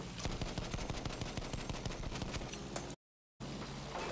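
Anti-aircraft gun fire in the video game Battlefield 1, a rapid, loud, continuous stream of shots that cuts out briefly and resumes.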